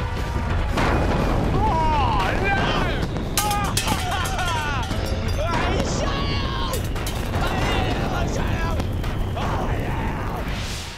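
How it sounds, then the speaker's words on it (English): A loud homemade space time capsule loaded with baked beans blasts apart, a sustained booming roar with crackling debris and shouting voices mixed in throughout. "Massive explosion took place, beans went everywhere"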